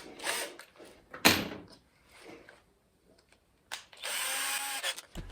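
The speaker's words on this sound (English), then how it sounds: "You're just drilling, I think it's about 15 holes around the edge" A power drill whirs in short bursts, drilling about 15 screw holes around a roof vent opening on a van, stopping and starting with clunks and handling noises between runs, then a longer steady drilling stretch.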